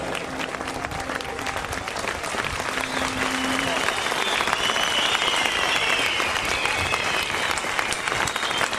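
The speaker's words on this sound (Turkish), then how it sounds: "Ayakta alkışlarsanız sevinirim biliyor musunuz?" Sustained audience applause, a dense, even roar of clapping from a large crowd that continues unbroken, with faint voices mixed in.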